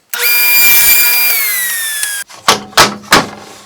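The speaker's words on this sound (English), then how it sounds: "I've set up my piece here to cut on the table saw at this mark for the length that I want" A table saw cuts through a wooden piece with a loud, sustained whining bite lasting about two seconds. Three sharp knocks and thuds follow as the blade winds down.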